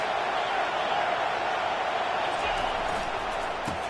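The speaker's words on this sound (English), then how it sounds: "This crowd trying to make life miserable for this offense." Dense, steady roar of a stadium crowd at a college football game, Notre Dame, filling the whole clip at a constant level, with commentator speech over it.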